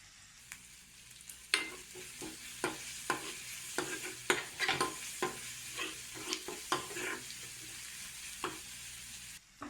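Curry leaves sauté in coconut oil with garlic and onion for a Kerala-style parippu curry, a soft steady sizzle broken by a dozen or so sharp spoon scrapes and clinks against the pan, with no talking.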